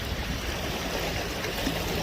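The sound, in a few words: sea waves coming in on the shore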